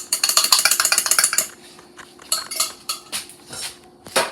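Veggie tuna mac and cheese being mixed in a bowl, with a rapid run of rhythmic metal utensil scrapes and clinks against the bowl, then slower scattered stirring knocks, close and loud with no speech.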